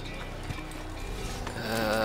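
A horse gallops in Assassin's Creed, its hoofbeats a steady clip-clop that sits fairly low in the mix and swells slightly toward the end.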